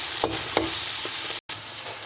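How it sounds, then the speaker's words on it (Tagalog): Fresh miki noodles sauté in a pan over a wood fire, a steady close sizzle with a few sharper stirring scrapes and a brief dropout. "Igisa lang natin hanggang sa maiga."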